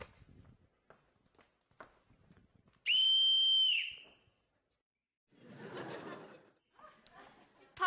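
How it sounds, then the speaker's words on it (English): A single sustained, piercing whistle blast rings out for about a second during a stage production of The Sound of Music, set among quiet footsteps, shuffling and a burst of chuckling. "I forgot to return this whistle, Captain."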